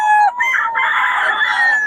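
A rooster in a gamefowl pen in Pangasinan lets out a loud, close crow, breaking briefly before stretching into a long sustained call.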